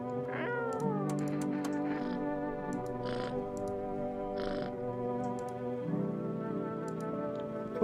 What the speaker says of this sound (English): Pick up the cat.